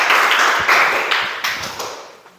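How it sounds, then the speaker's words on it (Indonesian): Students in a classroom clap for a group, a short burst of scattered hand claps that rises quickly and fades over a couple of seconds. "beri tepuk tangan untuk kelompok"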